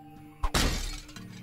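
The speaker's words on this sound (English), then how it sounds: "let me smash this picture frame first" A picture frame smashed in a spider-themed video game makes one loud, close shattering crash of breaking glass. It rings out and decays over about a second, above a quiet game hum.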